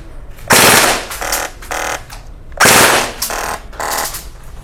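A toy blaster fires in burst mode: two loud, close bursts of rapid rattling shots, each breaking into about three quick clusters with brief gaps between.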